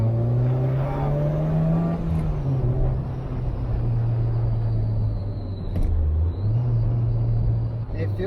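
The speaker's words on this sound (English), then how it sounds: "I'm gonna go ahead and give it a little gas here on this corner to straightaway" A supercharged Honda Fit accelerates out of a corner onto a straightaway, a steady loud engine drone rising in pitch then dropping briefly, with a speaker talking over it throughout.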